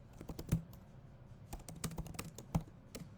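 Keys clatter on a computer keyboard in short clustered bursts of clicks with brief pauses, close and fairly quiet, with no talking over it.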